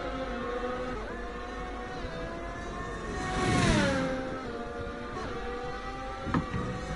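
A race car engine holds a high, steady whine with smooth gear-shift dips through a flying lap in a racing video game, swelling briefly as it passes close, with no talk over it.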